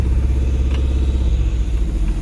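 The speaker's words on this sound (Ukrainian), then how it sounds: "Дуже шумний мотор." The noisy engine of a 2003 ZAZ Slavuta car drones steadily and loudly, a low rough rumble with a pulsing beat and no speech.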